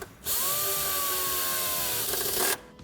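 Power tool driving a self-tapping screw into the body of a BMW 5 Series G31 Touring while wiring a tow hitch, one loud, close, continuous whirring burst of about two seconds with no talk.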